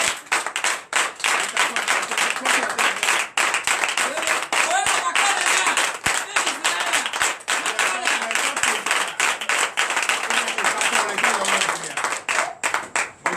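Audience clapping and applauding for a president seated in a chair during a night deliverance and prophecy church service, dense sustained clapping throughout with voices mixed in.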